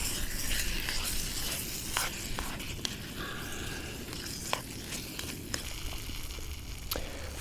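A pot simmers on a low-flame camping stove outdoors on a moorland, giving a steady, close bubbling hiss with faint scattered pops and crackles throughout.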